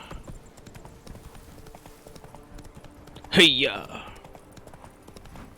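Horse hooves clip-clop in a video game, a soft steady trot running under the whole stretch while a player's voice calls out loudly midway.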